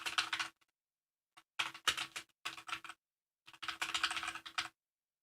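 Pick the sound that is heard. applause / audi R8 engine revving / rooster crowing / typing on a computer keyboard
typing on a computer keyboard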